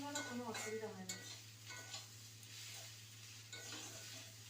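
Soaked rice is lightly fried in a pan, with soft scraping stirs and a gentle, steady sizzle, quiet and close with no talking.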